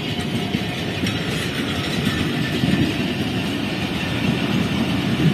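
A train carriage on an express train rolls steadily along the rails, giving a continuous rumbling roar with faint rhythmic clatter, heard from inside the coach without any voices.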